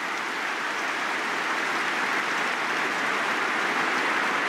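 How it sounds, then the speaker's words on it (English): A stadium crowd at the 2019 All-Ireland hurling final between Tipperary and Kilkenny gives a sustained round of applause, a dense, even roar of clapping with no voices above it. "Massive round of applause"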